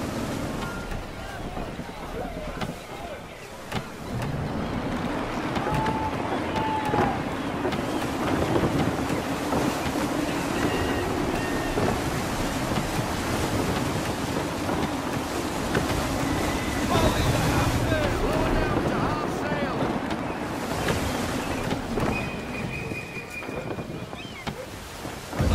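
Sailing ship at sea in the video game Assassin's Creed 3, with steady wind roaring and rushing against the mic, waves and water washing along the hull, and creaks of rigging throughout, loud and continuous.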